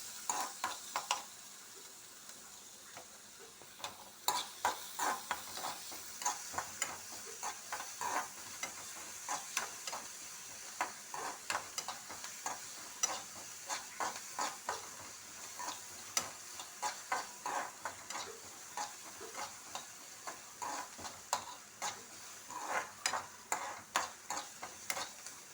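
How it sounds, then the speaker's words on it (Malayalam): Onions and green chillies frying in a pan, a faint steady sizzle with frequent sharp crackles and pops and occasional stirring scrapes, close but quiet, running alone for about twenty-five seconds. "ഉള്ളിയും നല്ലോണം ഒന്ന് മൂത്ത് വരട്ടെ."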